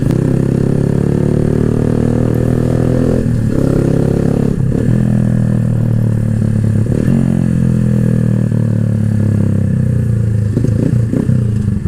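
A Keeway Cafe Racer 152 motorcycle engine idles loudly up close and revs repeatedly in first and second gear, the pitch rising and falling with each throttle blip.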